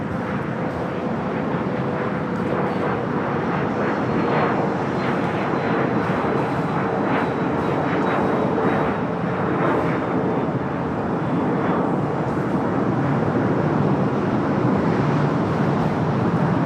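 A Frontier Airbus A320neo on flight 1268 to Salt Lake City roars steadily at LAX, a broad sustained jet rumble and whine holding loud throughout with a faint tonal pitch slowly shifting, no voices.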